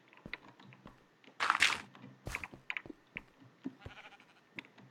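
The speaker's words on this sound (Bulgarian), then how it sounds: "Овцата." A Minecraft sheep bleats twice in quick succession, a short wavering bleat close by, amid faint clicks and small game sounds.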